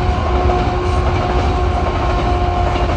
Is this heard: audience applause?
no